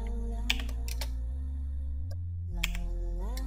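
A few crisp clicks on a computer keyboard as a Ctrl shortcut is pressed in Excel, close by and sparse, over a steady low electrical hum.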